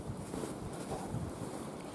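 Blizzard wind gusts through deep snowdrifts beside a creek in Pacific Northwest winter conditions, a steady, loud broadband rush with buffeting across the microphone, sustained throughout with no voices.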